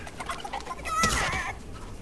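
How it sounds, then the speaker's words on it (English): A chicken in the Fortnite video game clucks and squawks, a short burst of rising cackles peaking midway through, fairly close and clear over faint background noise. "Is that the deadliest chicken in the universe?"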